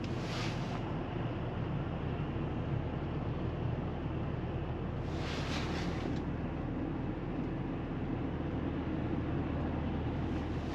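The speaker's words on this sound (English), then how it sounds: "now I'll let you guys hear it idling" A Mercedes-AMG engine idles cold before reaching full temperature, giving a steady, even low rumble that runs on alone without a break.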